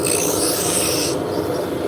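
Spindle gouge cutting a spinning wooden shaft on a lathe, a steady, close, loud rasping scrape that holds continuously, its bright hiss dropping away partway through as the cut eases.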